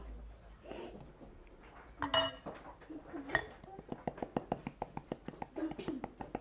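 A utensil strikes a bowl in quick, regular clinks while chocolate cake batter is mixed, starting with scattered knocks and settling into a steady rhythm, close and fairly quiet, with a few soft words spoken early on.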